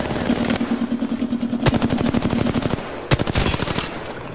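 Rapid automatic gunfire from the video game Apex Legends, close and loud, in several sustained bursts with brief gaps between them.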